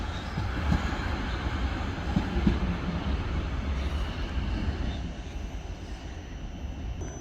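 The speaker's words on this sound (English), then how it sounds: "Arriving in here is a overground service from Stratford to Clapham Junction." A London Overground train pulls into Clapham Junction station during the evening rush hour, producing a steady low rumble and rolling wheel noise at moderate distance that persists throughout the clip.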